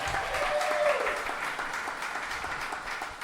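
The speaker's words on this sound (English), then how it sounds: "Can we get a round of applause for our event sponsors?" Guests at a live podcast party applaud event sponsors, a moderately quiet wash of steady clapping across the room, with a brief voice audible near the start.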